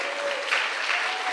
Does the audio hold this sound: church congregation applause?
yes